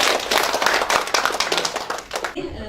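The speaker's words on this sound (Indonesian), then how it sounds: "beri tepuk tangan untuk kelompok sebelumnya" Participants at a conflict-mapping report session give the previous group a round of quick, close applause that cuts off abruptly near the end, leaving a quieter room.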